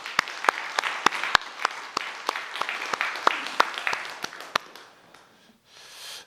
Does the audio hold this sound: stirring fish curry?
no